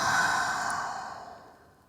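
A slow, breathy exhale during yoga, taken in child's pose with the forehead resting on the mat, starting fairly strong and fading smoothly to quiet over about two seconds.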